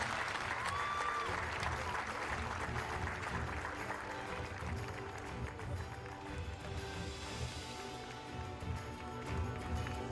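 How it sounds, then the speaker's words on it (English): Steady applause from an outdoor crowd at a Paris recurve archery team final in 2022, a dense, fairly distant wash of clapping that carries on evenly with a few voices mixed in. "please give a warm round of applause to our athletes"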